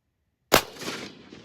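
A single sharp rifle shot firing Hornady 165 gr CX ammunition outdoors, a loud sudden crack after silence followed by a short decaying echo.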